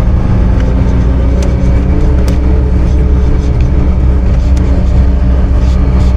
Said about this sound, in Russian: Дороги нет. Едем вообще по снегу.